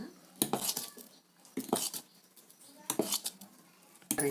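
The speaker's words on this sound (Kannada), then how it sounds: "ಇದನ್ನು ಚೆಂದಾಗ ಮಿಕ್ಸ್ ಮಾಡಲ್ರಿ" A metal utensil scrapes and clinks against a bowl while mixing rice flour batter for paddu, in short bursts of several strokes with pauses between, close and fairly loud.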